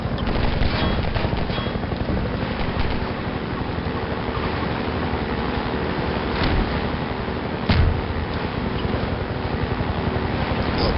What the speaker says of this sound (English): Ah, they're shooting now.